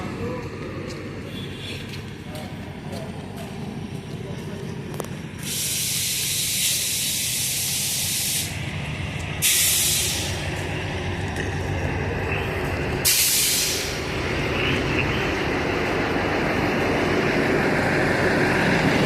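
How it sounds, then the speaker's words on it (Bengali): A big train locomotive idles at Badkulla railway station with a deep, steady rumble, broken by several loud bursts of hissing air release; no speech. "এই যে ইঞ্জিন দেখতে পাচ্ছেন ইঞ্জিন বিরাট"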